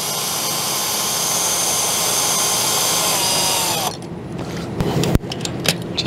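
A power drill or impact driver backs out small machine bolts from RV air conditioner brackets, whirring steadily for about four seconds before stopping, followed by a few short clanks and handling knocks of tools and hardware.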